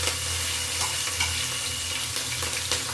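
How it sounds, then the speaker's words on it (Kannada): Green chillies and spices sizzle in hot oil in a pan, a loud, continuous close-up frying hiss with light stirring scrapes. "ಬಿಸಿ ಆಗಿದೆ ಅಂದಮೇಲೆ ಇವಾಗ ನಾನು ಹಸಿಮೆಣಸಿನಕಾಯಿನ ಹಾಕ್ಕೊಳ್ತಾ ಇದ್ದೀನಿ"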